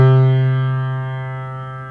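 A single sustained keyboard note just below middle C, struck once and left ringing alone as it slowly decays, rich in even harmonics with a faint echo-like shimmer.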